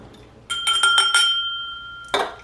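A whiskey glass of Canadian Mist blended whiskey is struck in a quick run of four or five bright, ringing clinks like a dinner bell, followed after a pause by one more sharp chime, with no talking.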